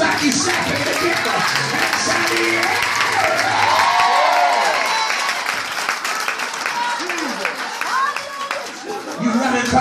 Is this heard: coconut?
no